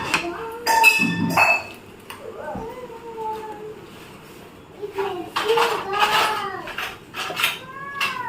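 Steel containers and a pressure cooker clink and clatter in intermittent bursts while people talk nearby, with a few high, cat-like cries mixed in.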